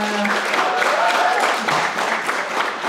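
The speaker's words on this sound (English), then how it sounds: "By round of applause, you could hoot and holler." An event audience at a Juneteenth celebration claps and cheers, a busy mix of applause with a few tonal whoops and hollers rising through it, fairly loud and steady for a few seconds.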